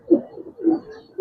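Pigeons at a pigeon farm coo close by, two low, throaty coos in quick succession with a softer murmur between them.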